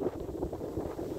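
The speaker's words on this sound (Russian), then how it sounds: "Ветер сильный, конечно, сдувает." Low, gusty wind buffets the microphone in uneven pulses, a rumbling rush that rises and falls without pause.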